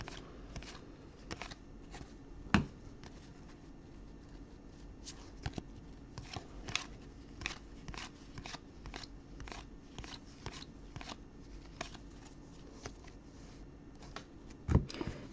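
Trading cards being flipped and handled during a live basketball card break, with Phoenix Suns cards among them: soft, scattered clicks and flicks at an irregular pace, close and fairly quiet, with no talking.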